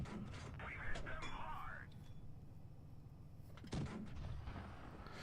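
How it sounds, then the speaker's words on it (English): A tank cannon fires APCR shells in the World of Tanks Blitz video game, with a T-28 Soviet medium tank. Two heavy booms sound about three seconds apart over low engine rumble, and a voice talks quietly throughout. "we switch over to APCR and can pump in a few shots here"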